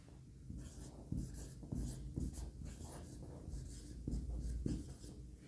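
A geometry proof about circle chords being written on a board, a steady scratching of marker or chalk in short strokes, quiet and close, with no talk over it.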